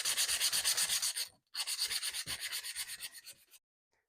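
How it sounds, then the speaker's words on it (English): Sandpaper rubs rapidly back and forth over a wooden cutting board to remove router burn marks, a close rhythmic scratching in two bursts separated by a brief pause, with no voices. "I'll clean that up with some sandpaper before I round over the edges"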